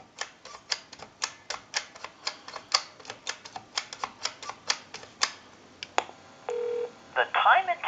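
An original Snoopy and Woodstock novelty telephone, converted for modern service, dials out with a quick run of evenly spaced clicks. A short steady tone and a burst of warbling line tones follow.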